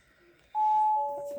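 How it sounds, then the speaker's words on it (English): A 2018 Audi S4 3.0 TFSI quattro sounds its door-open warning, a steady clear electronic tone that starts abruptly and holds, with a second lower tone joining near the end over faint cabin background. "excuse the little beeping. That is of course because I've got the door open."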